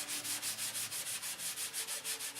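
Steady sanding strokes rasp back and forth in an even rhythm, roughly a dozen passes, close and continuous with no talking.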